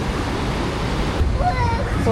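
Large sea waves surge against an eroded Vietnam seafront embankment where the beach has nearly vanished, a steady loud wash of surf with a voice briefly heard over it near the end.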